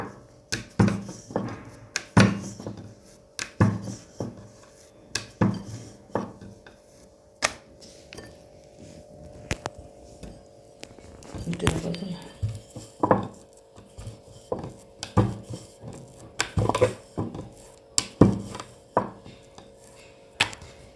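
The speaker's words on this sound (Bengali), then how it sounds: "এইভাবে প্রত্যেকটা লুচিকে আমি বেলে নেব।" Ajwain puri dough being rolled out with a rolling pin, giving a steady series of soft wooden knocks and rubbing rolls, close and fairly quiet, with pauses between each round and no talking.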